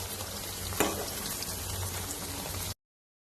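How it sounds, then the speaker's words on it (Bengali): Soft paneer sizzles in hot oil in a pan as it browns, a dense close frying crackle with one brief louder spatter early on, no talking. "ওই জন্য একটু বেশি লাল লাল করে ভেজে নিচ্ছে"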